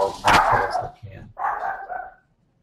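Dogs barking loudly at close range, two sharp barks with a short gap between them, the sound ending abruptly in silence.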